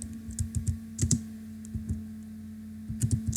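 Typing on a computer keyboard: bursts of quick, close key clicks in uneven clusters with short pauses between them, over a steady low electrical hum.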